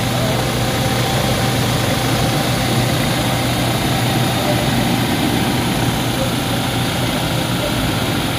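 A Toyota Majesty van's 2,800 cc diesel engine idles continuously with a constant low rumble and hum, close and loud, with no change in pace throughout.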